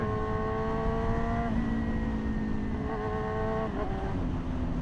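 A high-revving Yamaha R6 600cc sport motorcycle engine holds a loud, steady whine that shifts pitch a few times, rising and dropping as the throttle changes.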